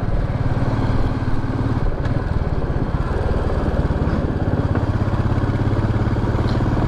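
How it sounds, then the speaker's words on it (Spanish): A steady stream of motorcycles, mostly trail and naked bikes, passing downhill on a mountain road, their engines droning and pulsing close by without a break, with no talk. "Cruzamos muchas motos bajando."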